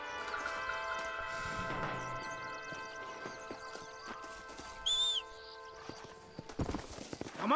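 Horse hooves clip-clopping in the Red Dead Redemption video game: a steady, close trot of hoofbeats under game music, with a brief whinny midway and a clattering burst near the end.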